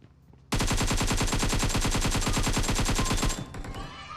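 An automatic weapon in the mobile battle royale game PUBG Mobile fires a sustained burst of rapid, evenly spaced shots for about three seconds, loud and close, before tapering off.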